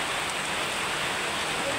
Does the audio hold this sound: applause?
no